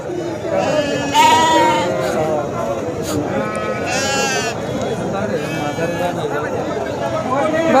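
Several goats bleat loudly and repeatedly nearby amid a busy crowd at a goat and sheep market in Sangola, India, with people talking throughout.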